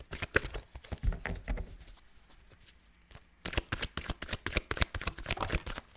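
A tarot deck being shuffled in quick bursts of snappy card flicks close up, broken by a short quiet gap before the brisk shuffling starts again.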